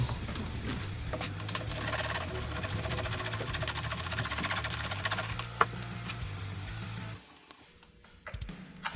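A ratchet or power tool backing out two 7/16 bolts from the air box of a Polaris Storm 800 triple snowmobile gives a steady, close buzzing whir that stops abruptly near the end, followed by faint handling sounds.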